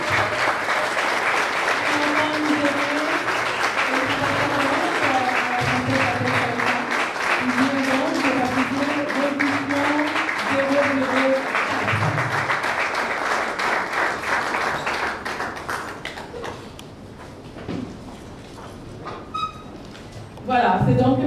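Audience applause from a crowd at a book launch, loud steady clapping for about fifteen seconds under a voice speaking over a microphone, then fading to quieter murmur before a brief renewed burst.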